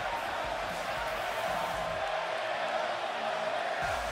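A dense, continuous roar of an arena crowd cheering in a WWE wrestling video game, loud and steady throughout with some low thumps under the noise.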